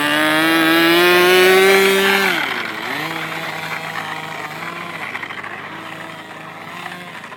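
A scratch-built radio-controlled airboat's small engine drones loudly, then its pitch drops and settles into a lower, buzzing idle. It runs continuously outdoors in wind.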